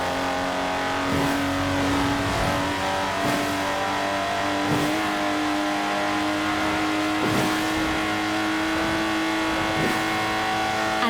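A Lotus Exige engine in Forza Horizon 4 roars steadily and loudly at high revs, with sustained harmonic drone and periodic shifts in pitch as it accelerates through gears.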